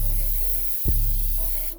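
Contact cleaner sprays onto brake dust and grime on a Yamaha TTR-90 motorcycle, a close, loud aerosol hiss in two bursts with a brief break between them and no talking.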